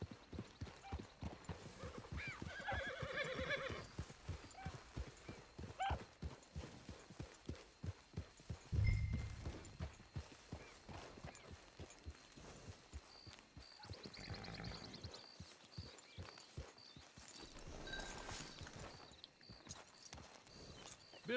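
A horse's hooves clip-clop steadily in Red Dead Redemption 2 Online, broken by a couple of whinnies, with faint game ambience around them.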